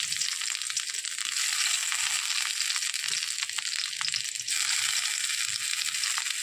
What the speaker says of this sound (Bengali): এখানে তেলটা গরম হয়ে গেছে, তো এর মধ্যে আমি পেঁয়াজগুলো দিয়ে দেবো।